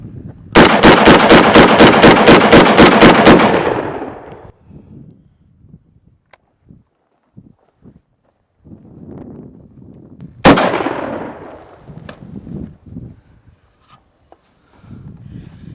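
Kel-Tec SU-16 rifle firing outdoors, a rapid string of about a dozen sharp, loud cracks in quick succession, then quiet handling noises and one more close, loud shot with a trailing echo.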